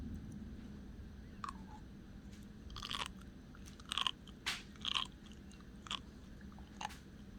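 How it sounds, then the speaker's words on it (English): Close, crisp crunching bites of sea grapes seaweed in irregular bursts over a quiet low hum, with pauses between chews, no talking. "hear if these are really as crunchy as they seem."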